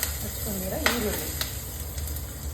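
Chopped onion fries with green chilies in a pan for onion chutney, giving a steady close sizzle and hiss throughout, with a couple of stirring knocks and a low hum underneath.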